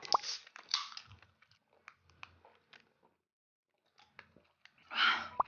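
Hamburger being eaten up close, with crunchy bites and wet chewing bursts at the start and again near the end, separated by quieter mouth sounds and a pause; no talking.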